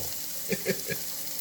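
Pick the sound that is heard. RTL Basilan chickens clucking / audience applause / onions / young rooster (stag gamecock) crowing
onions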